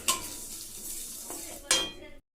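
Dry-roasted spices are stirred in a dry pan, a spoon scraping and clinking against the metal with a couple of sharper knocks, close and brief, with no voices.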